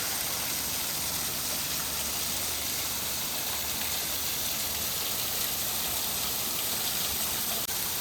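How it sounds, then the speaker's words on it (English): A waterfall on the Lowell riverfront, heard from below, gives off a steady, even rush of falling water with no other sounds standing out. "Here's that waterfall from below."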